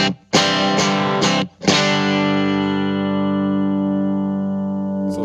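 Clean, dry electric guitar chords strummed on a Les Paul through a VOX AC10 amp, a few quick strikes and then one long chord left ringing and slowly fading.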